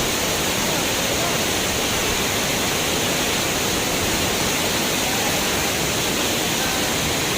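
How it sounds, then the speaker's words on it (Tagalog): A waterfall rushes in a steady, loud broadband roar, close by and unbroken for the whole stretch, with no other sounds standing out. "Ito yung kaganapan sa taas ng waterfalls."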